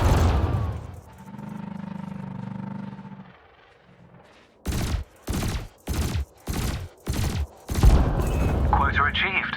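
Weapon fire from a spacecraft in Elite Dangerous: a low sustained laser hum fades, then a rapid string of about seven loud, evenly spaced cannon-like blasts, followed by a louder crackling burst.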